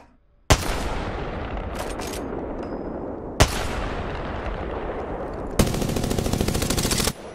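Warzone gunfight with heavy, close gunfire: a sharp shot opens a long rolling volley, another crack follows, then a rapid automatic burst rattles out near the end.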